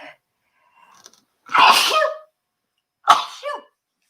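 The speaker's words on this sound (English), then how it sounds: "I'm going to sneeze" A single loud sneeze burst, preceded by a faint sharp inhale and followed by a shorter second expulsion, close to the listener with no talking.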